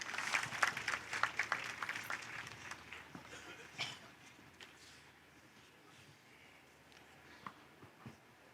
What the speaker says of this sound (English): please a big round of applause for Halib Foods